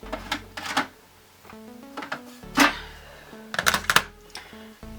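A drawer is pulled open amid a run of sharp wooden clacks and knocks, several quick rattling impacts in bursts, close by.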